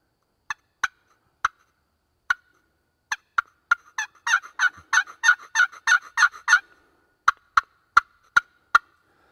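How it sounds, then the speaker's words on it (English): A wooden scratch box turkey call gives sharp single yelps, then a fast run of raspy clucks and yelps, then more spaced yelps, close and clear with no talking. "now this is a scratch box, not a lot of guys use them. It makes a little different sound."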